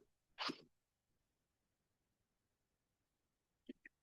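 One quick sneeze bursts out in a quiet room during a school board meeting, followed after a long pause by a couple of faint, brief clicks.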